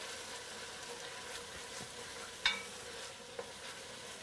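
Tito's vodka cooking off in a pan, a soft steady sizzle with a faint hiss underneath and two brief clinks, close but quiet.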